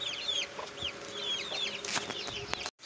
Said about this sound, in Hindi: बाकी मुर्गे हैं।